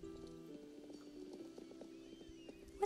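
A pony in a video game clops its hooves in a quick, quiet rhythm over background game music, with a soft whinny and a brief sharp sound at the end.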